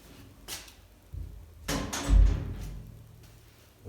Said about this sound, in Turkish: E burada da şu kapıyı bir kapatayım.